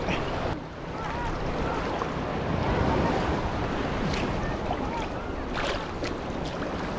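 Sea waves wash and churn at Patar Beach in Bolinao, Pangasinan, a constant broad rushing close by with heavy wind buffeting the microphone and no clear voices.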